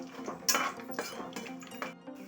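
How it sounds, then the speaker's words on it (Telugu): Dry red chillies, peanuts and tempering spices stirred in a pan, a utensil scraping and clinking against the metal in a steady series of close, moderately loud strokes with no voices. "పోపు దినుసులు ఎండుమిర్చి రెండు ఎండుమిర్చి కొన్ని పల్లీలు ఇవి కొంచెం వేగేదాకా కలుపుకుందాం"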